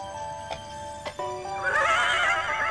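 A horse in the video game Harvest Moon: Save the Homeland; a few light hoof clicks come first, then a loud, wavering whinny takes over and fills the rest, with no talk.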